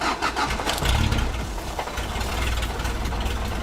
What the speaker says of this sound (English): the car starts up